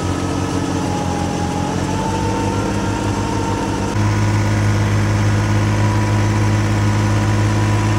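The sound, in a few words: New Holland 3630 tractor engine running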